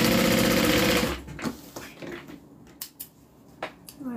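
A close sewing machine stitches side pieces of a garment in a steady whirring run for about a second, then stops, leaving faint handling clicks and small rustles of fabric.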